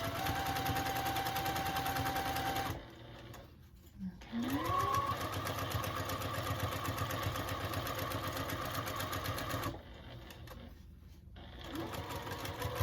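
Sewing machine running steadily to stitch fabric for a reusable mason jar cover, a loud close mechanical whir that stops briefly twice and then restarts.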